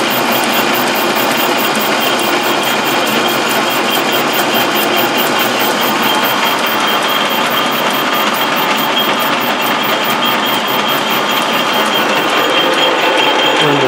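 A metal lathe holding a workpiece in a 3-jaw chuck takes a light facing pass at its slowest feed, a loud, steady mechanical whir and hum with a fine rapid ticking running throughout.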